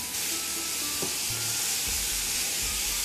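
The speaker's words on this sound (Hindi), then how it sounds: "आप इसमें सारी पालक डाल दें और ये है एक पूरी गड्डी। इसको आप अच्छी तरह फ्राई करें।" A whole bunch of spinach frying in a pan, giving a loud, continuous broadband sizzle and hiss close up, with a few low stirring knocks.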